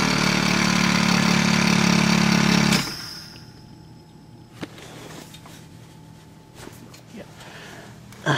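An AMC Eagle engine runs loud and steady for under three seconds after a nutter bypass fire-up, then cuts out abruptly, leaving a quiet stretch with a few faint knocks and clicks.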